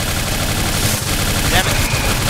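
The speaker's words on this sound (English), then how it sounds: "Stop shooting me!" Rapid gunfire aimed at the player in Bioshock Infinite, a dense, steady clatter of repeated shots running through the whole stretch, with a voice talking over it.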